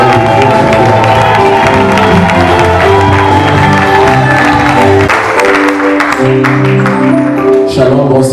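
A church seminar crowd cheers and applauds loudly and continuously for a pastor, the roar of claps and voices layered over sustained music throughout.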